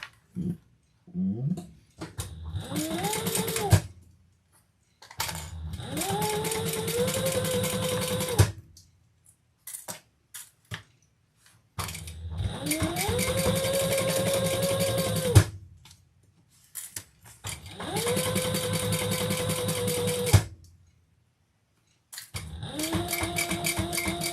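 A sewing machine top stitches a Monroe handbag in four long runs of steady, rapid whirring stitches, each starting with a rising motor pitch and separated by brief silences, close and alone.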